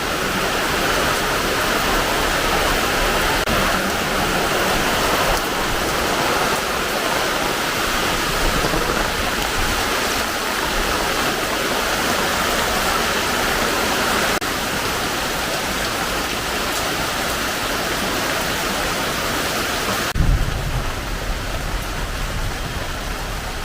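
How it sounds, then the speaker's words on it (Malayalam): A heavy downpour roars close by in a constant, dense hiss that holds for most of the stretch before thinning slightly near the end. "നല്ല കട്ട മഴ."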